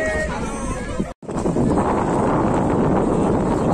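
Ferry boat ride from Okha ferry point toward Bet Dwarka: steady engine and wind rumble fill the air, broken by a short dropout, with a voice talking over it.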